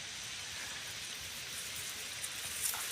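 Monsoon rain falls over rice paddies in rural Nabarangpur, Odisha, making a faint, steady hiss. A few soft drop ticks stand out near the end, and there is no talk.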